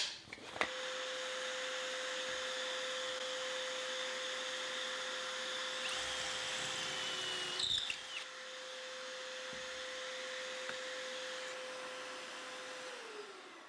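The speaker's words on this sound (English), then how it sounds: "The next step is to drill the pocket holes in the table apron sides" A power drill bores pocket holes into the apron sides of a wooden entryway table, a continuous high motor whine running for over ten seconds with small dips and knocks, then winding down.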